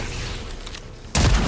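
Shotgun blast in the Fortnite video game, a single loud burst arriving abruptly near the end after a stretch of quieter background game noise.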